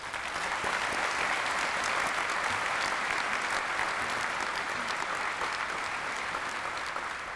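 Sustained, even applause from a ceremony audience at a museum building grand opening, honouring distinguished guests, a steady wash of many hands clapping without pause.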